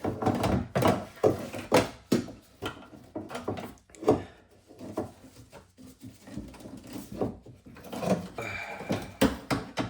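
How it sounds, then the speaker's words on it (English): Window regulator being worked into the door of a 1998-2002 Toyota Corolla: a steady run of close metallic clanks, knocks and scraping thunks with brief pauses, no talking. "I'm going to start by inserting most of the window regulator in."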